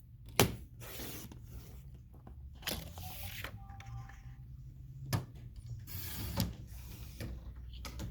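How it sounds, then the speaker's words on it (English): A paper trimmer blade slides through a piece of paper in a quiet crafting setting, producing faint mechanical clicks and short scraping strokes spread over several seconds. "Keep it in the trimmer tall and scoot it on down and cut it at 3 inches."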